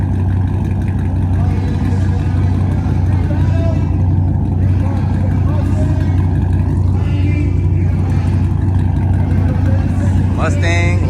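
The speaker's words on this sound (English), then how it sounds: "They got the truck, this truck, versus the Mustang." Engines of a truck and a Ford Mustang revving against each other at a Houston car meet, a loud steady low drone throughout with a crowd chattering nearby.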